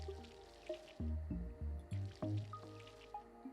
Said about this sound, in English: I think we probably still need to water the crops.